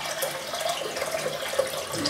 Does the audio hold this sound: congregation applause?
no